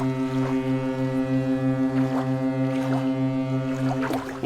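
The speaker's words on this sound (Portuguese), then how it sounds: "Os motores do cargueiro velho roncaram como um monstro que ressurge de um sono longo demais." Engines of an old cargo ship rumble in a low, steady drone with a slow pulsing throb, joined by a loud horn-like tone and occasional creaks and splashes.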